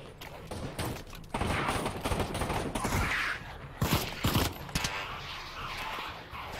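Gunfire in the VR shooter Pavlov VR during a zombie horde match: rapid bursts of shots crackle in clusters over a constant busy game din, with a couple of louder volleys.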